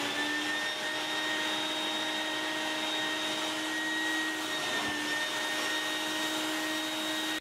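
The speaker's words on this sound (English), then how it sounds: "Using a wet vac, wrap a garbage bag tightly around the hose end." A wet vac runs steadily the whole time while unclogging a toilet, hose end wrapped in a garbage bag; a loud, even motor whine with a constant high-pitched hum and no breaks.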